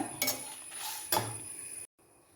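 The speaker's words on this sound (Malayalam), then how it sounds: "ഉള്ളിയും കരിയാപ്പിലയൊക്കെ ഇട്ടിളക്കുന്നുണ്ട്" Metal utensils scrape and clink against a pan in a few quick strokes, close up, with a soft background hiss, while stirring onions, chillies and curry leaves with coconut.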